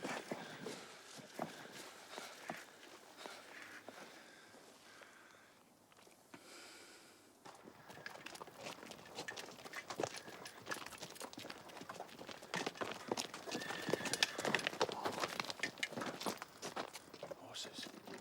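Several horses approach on a period battlefield setting, hooves clip-clopping in a busy, irregular patter that grows louder after a brief lull, mixed with rustling and other movement.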